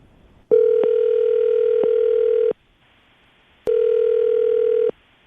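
Two long steady telephone ringback tones, each about two seconds, separated by a pause, clear and loud with no talking.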